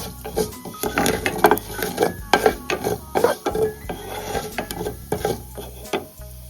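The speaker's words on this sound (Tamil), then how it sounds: "இது பொரிஞ்சதும் பெருங்காயம் ஆட் பண்ணிக்கோங்க. கொஞ்சம் கறிவேப்பிலையும் போட்டுக்கோங்க. இது பொரியட்டும்." Curry leaves and asafoetida fry in hot oil in a pan, with a continuous crackling sizzle broken by scraping and stirring clatter, close and moderately loud.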